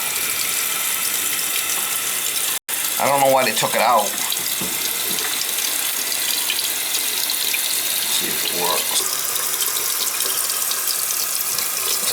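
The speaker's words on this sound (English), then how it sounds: "when we tip this bucket, it's going to drain out and then it'll flip" Water drains and splashes from a tipped flush bucket inside an old American Standard toilet, a continuous close rushing trickle lasting throughout, with a brief mechanical clatter and someone speaking over it.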